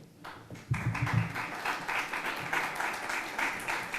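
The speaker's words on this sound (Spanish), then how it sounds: "pues ya pediros un fuerte aplauso para ella." Audience applause for a researcher at a microbiology research event, breaking out after a brief low voice and continuing as dense, steady clapping to the end.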